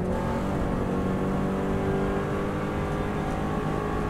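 A Subaru WRX STI held flat out on an Isle of Man road lap, its engine droning loud and steady at high speed under heavy wind and road roar, without any pause or let-up.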